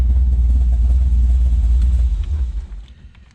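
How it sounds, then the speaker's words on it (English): A cammed LS V8 swapped into a 1992 Mazda RX-7 FD idles with Holley Terminator X fuel injection, giving a deep, loud, loping rumble that fades toward the end. "He's got a cam, you hear it chopping."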